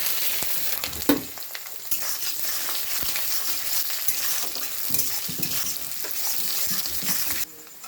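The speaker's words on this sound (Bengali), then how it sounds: "এখানে আছে কাজু বাদাম, কিশমিশ, নারিকেল, আদা কুচি, সব কিছু একসঙ্গে দিয়ে দিচ্ছি।" Cashews, raisins, grated coconut and chopped ginger frying together in oil with dried red chillies and cumin, a steady close sizzle with stirring scrapes and an early clank, continuous and without talk.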